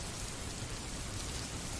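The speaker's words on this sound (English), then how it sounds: "Rain pattered against the window." Rain patters against a window as a soft, continuous wash of drops with a faint low rumble underneath, steady and even throughout with no voices.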